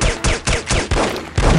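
Rapid gunfire from an in-game firefight in The Operative: No One Lives Forever, five or six loud, close bursts in quick succession with short gaps, no voices.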